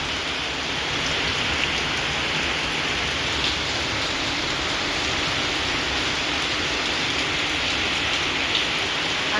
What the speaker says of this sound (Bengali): দেখো কিরম জোরে বৃষ্টি হচ্ছে।